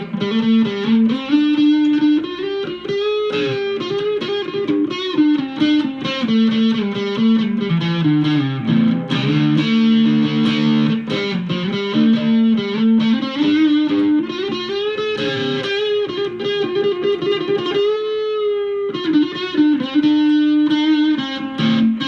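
Electric guitar on the neck pickup plays a melodic lead line with sustained, bending notes over a rich, warm tone, loud and continuous for about twenty seconds with no talking.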